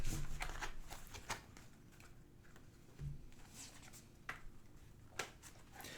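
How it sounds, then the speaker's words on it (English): Oracle cards are shuffled and cut with soft, close papery rustles and light taps, an irregular low-level patter over a faint background hum. "I'm just going to shuffle and do a cut and pull one."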